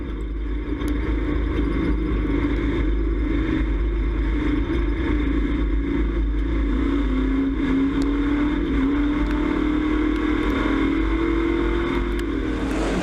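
Street stock race cars at a heat race start on a speedway, heard from on board car number 2 as a steady loud engine roar with a slowly rising pitch throughout, no talk over it.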